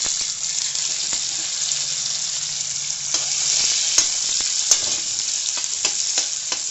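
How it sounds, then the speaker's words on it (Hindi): Almonds frying in oil for carrot halwa make a loud, continuous sizzle up close, with scattered crackles and small pops. "अब बादाम को फ्राई करेंगे।"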